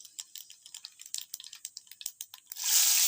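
Cumin seeds crackle in hot oil as a tempering, a quick run of sharp close pops that gives way to a dense, steady sizzle.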